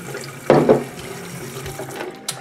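Filtered water runs from a tap into a jar of seeds set for sprouting, a steady close splashing stream with a brief louder gush near the start, no voices.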